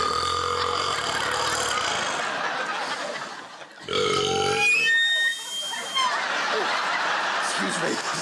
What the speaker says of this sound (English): Right, burping competition.